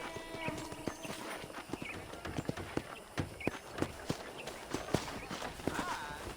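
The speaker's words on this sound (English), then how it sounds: "I picked out a fine horse for you." Horse hooves clip-clop in steady, uneven strikes on the ground in the Red Dead Redemption video game, moderately close under faint background sound, with no talk during the steps.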